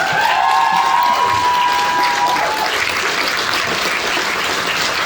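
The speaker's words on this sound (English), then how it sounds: "let's all give her a round of applause" An audience gives Missy a sustained round of applause at a discussion panel, a dense steady wash of clapping that stays loud throughout, with a faint whistle-like tone early on.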